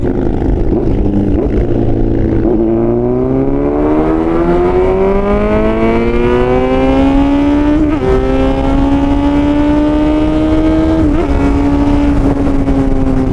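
A Kawasaki Z900 with a full Arrow exhaust system roars loud and close through rising and falling revs, with several gear changes interrupting the climbing engine note.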